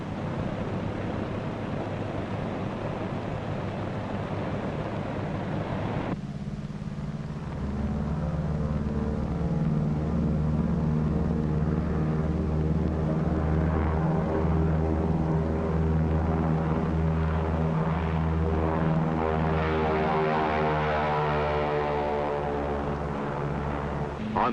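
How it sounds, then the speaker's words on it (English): Pilotless Army Air Force drone planes prepare for takeoff, their engines droning steadily and loud, with a rough, wind-like wash. A sharp shift partway through leads into a heavier, throbbing engine roar that holds to the end. "Army Air Force drones are preparing to take off"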